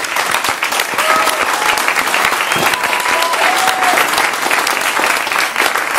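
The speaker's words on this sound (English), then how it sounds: "I wanted us to take the time to give them another round of applause for the wonderful performance that they have" An audience gives a performance a sustained round of applause, dense steady clapping filling the room at even loudness throughout, with no speech over it.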